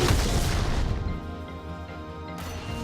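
A heavy, booming cannon blast from the game League of Legends hits at once, then rolls off into a low rumbling decay lasting a couple of seconds.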